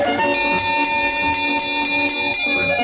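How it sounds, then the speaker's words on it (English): A bright bell rings rapidly and steadily, its metallic strikes repeating about four times a second, loud and close. "Ring the bell."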